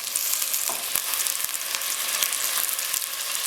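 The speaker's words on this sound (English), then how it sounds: "Adding the onions, and we need to saute them for a good few minutes." Onions sauté in hot cooking oil with a dense, steady crackling sizzle close by, broken by a few faint clicks of stirring, with no voices.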